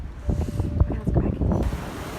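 Strong wind buffets the microphone beside icy water, a rough low rumbling roar with gusty surges, close and fairly loud throughout.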